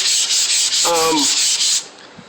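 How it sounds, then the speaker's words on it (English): A car valve cover is sanded by hand in one direction, giving a steady, close, fairly loud scratchy rubbing that runs for nearly two seconds and then stops. A brief low squeak comes in the middle. No one speaks. "you always want to make sure that you sand in one direction"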